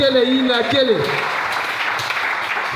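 Church congregation at a Sunday worship service bursting into applause to acclaim the Lord, a dense, sustained wash of clapping that swells in and holds steady after a sung phrase, with some voices mixed in.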